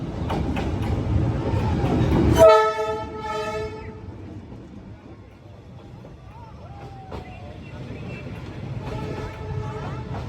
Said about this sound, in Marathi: ट्रेन आली बघा आता, पूर्ण ट्रेन.